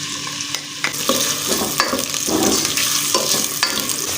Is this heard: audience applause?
no